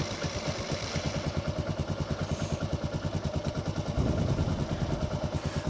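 A carbureted Kawasaki KLR 650 motorcycle engine runs at a steady, close idle with rhythmic single-cylinder thumping, briefly growing louder and rougher near the end as it settles.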